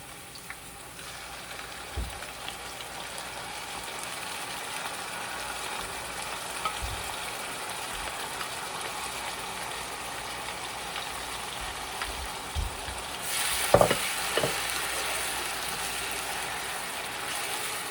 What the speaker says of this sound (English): we let it fry a little bit